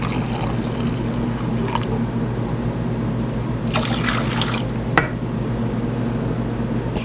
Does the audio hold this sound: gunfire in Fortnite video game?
no